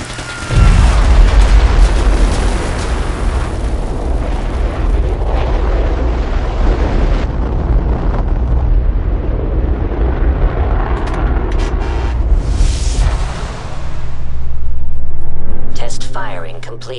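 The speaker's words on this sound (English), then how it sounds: "Engine firing." A thermal engine fires in Fallout 4 with a deep, loud sustained roar and rumble that builds through most of the stretch, swelling again near the end before fading, with a synthesized voice speaking over it.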